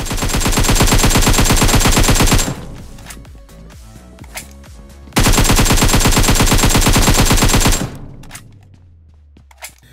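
Two long bursts of rapid automatic gunfire in PUBG Mobile, loud and close, separated by a pause filled with scattered clicks and echoing shots.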